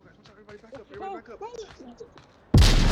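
Grenade detonating in the Onward VR shooter during a competitive league match, a sudden loud blast at the very end that cuts in over a commentator talking.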